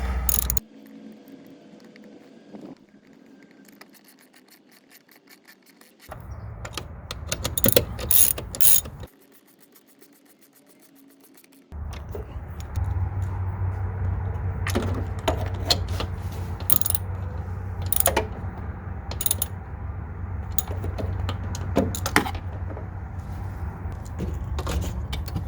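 Ratchet clicking and metallic mechanical rattles while 10 mm bolts are tightened back up on the wiper linkage of a 2003-2012 Saab 9-3, in short bursts close up, over a low rumbling background that comes and goes.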